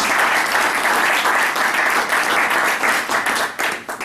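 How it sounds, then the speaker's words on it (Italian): Loud applause from an audience at a business association event, a thick burst of close clapping that swells and then starts to break up and taper off. "che salutiamo con un bel applauso"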